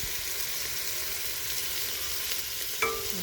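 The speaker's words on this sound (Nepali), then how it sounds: "अदुवा लसुनको पेस्ट हालेपछि यसलाई पनि मजाले भुटेर मासुसँग यसलाई पनि मजाले भुटेर" A spoon stirs ginger-garlic paste frying with meat in a pan, producing a continuous close sizzle with scraping movement. A sharp metallic clink sounds near the end.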